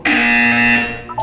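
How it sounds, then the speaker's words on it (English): Buzzer in the video game Portal 2: one loud, steady electronic buzz lasting about a second, close and alone, followed by a brief faint tonal blip. "When you hear the buzzer, look up at the ceiling."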